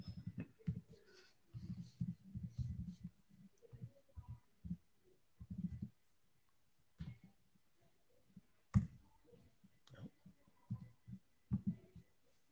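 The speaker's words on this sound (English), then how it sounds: "I love that everyone hears my typing." Bursts of muffled, thumping key presses come in uneven clusters, some louder clacks standing out, with quiet gaps between.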